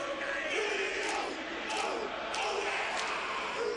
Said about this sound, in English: It's an energetic, emphatic Haka as the crowd of thousands.